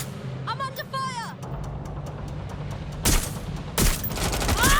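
Gunfire in the video game Watch Dogs: Legion, sharp bursts of shots around the three- and four-second marks amid a busy game mix, with a voice talking over the start.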